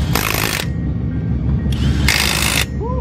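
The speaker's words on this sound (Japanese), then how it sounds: "この中に5本分のナットが入ってで一気に締められるってやつ" A multi-socket power tool tightening five wheel nuts at once on a drift car, heard as two loud bursts of whirring, ratcheting mechanical noise separated by a brief lull, close up over steady low background rumble.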